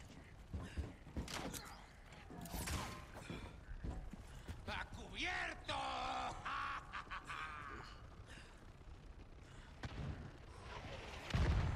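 Enemy gunfire in the Resident Evil 4 Remake video game rings out in scattered sharp bursts, mixed with game noise and voices.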